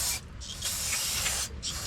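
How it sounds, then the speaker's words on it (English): Brake cleaner hisses loudly from an aerosol can onto a transmission gasket surface on an L5P Allison six-speed, a close, steady spray with two brief pauses, no talking. "Spray, brake clean, and wipe down."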